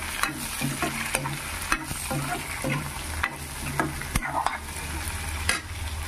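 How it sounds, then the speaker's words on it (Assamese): Banana stem with masoor dal frying in a pan, a sizzle under repeated scraping stirs of a utensil against the pan, close and steady. "আৰু অলপ ভাজি হোৱাৰ পিছতে এতিয়া এইখিনি দি দিম"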